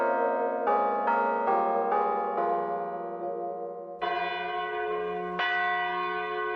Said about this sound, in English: I found the church by hearing the bells ring